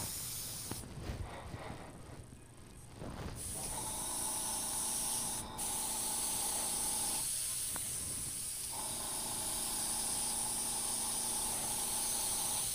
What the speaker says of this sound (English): Airbrushing like this is just so much fun.